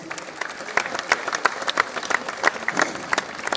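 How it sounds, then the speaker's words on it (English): An audience applauding at a darts championship men's final, a dense burst of clapping from a crowd that carries on steadily, with scattered louder claps standing out. "You know, we're going to applause them too, because they're all watching us."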